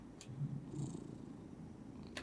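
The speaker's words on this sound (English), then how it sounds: "the cat is purring" A cat purrs softly and close, a low rhythmic rumble in a few gentle pulses with faint clicks at either end.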